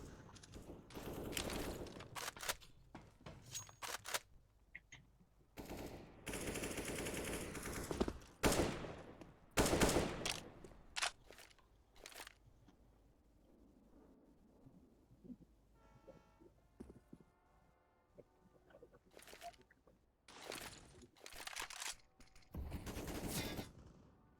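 Bursts of rifle fire in a Counter-Strike match, including a FAMAS, come in short, loud, clustered volleys separated by quieter stretches with faint footsteps and game noise.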